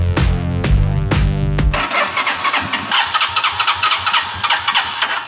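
A motorbike engine cranks over several times in loud sputtering bursts before catching and settling into a rough, pulsing idle close by.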